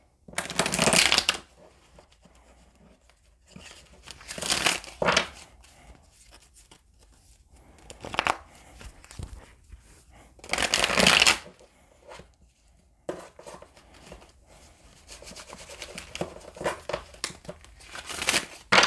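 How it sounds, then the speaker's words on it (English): Tarot cards are shuffled repeatedly nearby, with crisp riffling bursts and softer sliding and tapping between them; no one speaks. "let's get one more shuffle"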